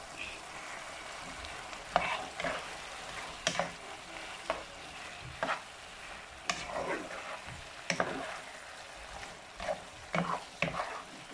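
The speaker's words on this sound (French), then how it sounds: "j'ai rajouté un petit peu d'eau pour bien cuire les poivrons ainsi que les oignons" Peppers and onions cooking in a pan with a splash of added water, for Senegalese chicken yassa: a steady sizzle with repeated stirring scrapes and clicks at an irregular rhythm, close and fairly quiet, no talking.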